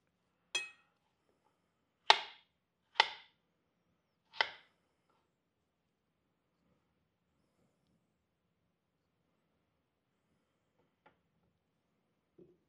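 A knife cuts thick slices, likely strawberries for a lemon strawberry cake, striking a cutting board in four crisp, close chops spaced about a second apart, then quiet with a couple of faint ticks.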